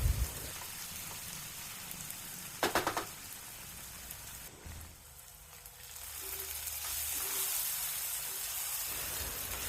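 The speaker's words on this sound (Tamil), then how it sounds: "இப்போ அடுப்போட தீயை கொஞ்சம் கூட்டி மீடியம் ஃப்ளேமில் வச்சு வதக்கலாம்" Onion and tomato sauté in a pan over a medium flame, giving a soft, continuous sizzle and hiss with a few brief louder scraping bursts, fairly quiet and steady throughout.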